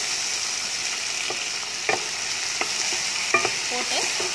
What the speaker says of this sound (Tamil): போட்டு நல்லா வதக்கணும்